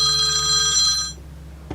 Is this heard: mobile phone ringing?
yes